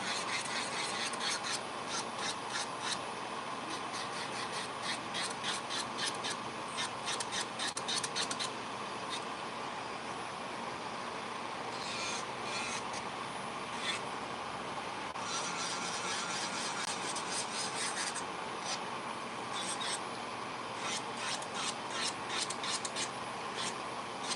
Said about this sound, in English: my movement of my file, even my angle, I even come straight up and down because that's less hand filing for me